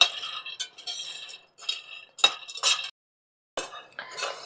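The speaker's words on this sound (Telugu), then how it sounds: "ఈ పల్లీల్ని సిమ్లో పెట్టుకుని వేయించుకోవాలండి" Peanuts dry-roasted on a low flame in a pan and stirred, giving bursts of close, bright rattling and scraping clinks in short spurts, broken by brief pauses and one full silence, with no voices.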